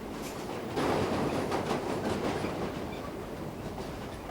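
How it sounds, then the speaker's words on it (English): A New York subway A train runs on elevated tracks through Harlem, giving a steady rolling rumble with rhythmic clickety-clack of wheels over rail joints, close and continuous throughout with no voices. "Down through Harlem, it trundles on the L tracks before plunging below ground onto the Upper West Side"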